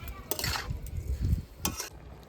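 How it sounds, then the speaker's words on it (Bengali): Tomato slices are stirred in a pan to cook off their water, giving soft scraping and clinks of a utensil against the metal with faint sizzling, in short irregular strokes. "অনবরত নাড়াচাড়া করে টমেটোর যে এক্সট্রা জলটা আছে শুকিয়ে দেব"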